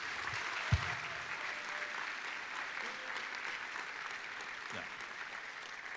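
An audience at a Heritage Commitment Ceremony gives a round of applause for retail and supply chain honorees, steady moderate clapping throughout, with a sharp thump early on and a quieter knock near the end.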